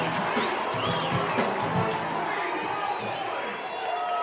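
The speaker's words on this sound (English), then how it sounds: "And just listen to the crowd." Crowd at a college women's volleyball match between West Texas A&M and Angelo State cheering and roaring after a block, a dense, sustained wall of noise with an announcer talking over it.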